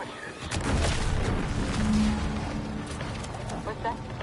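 A video-game explosion rolls out as a deep, muffled boom that swells and lingers as a rumbling tail, with faint crackles and game ambience around it.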